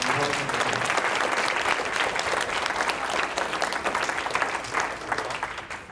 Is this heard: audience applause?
yes